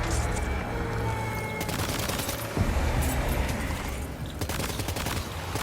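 Gunfire at a BT creature in the PS5 video game Death Stranding 2, a loud sustained burst of rapid shots over a low rumbling game soundscape, continuing in waves throughout with no talk.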